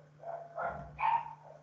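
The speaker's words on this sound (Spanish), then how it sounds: "ya se pelearon sus perros." Dogs scuffle and bark off in the background, a few muffled yelps and barks in a short flurry over a steady low hum.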